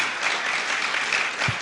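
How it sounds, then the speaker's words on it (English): A crowd at a Rotary club evening talk claps steadily, a full burst of applause sustained throughout, with no voices standing out. "we're going to give him a big round of applause for a wonderful evening"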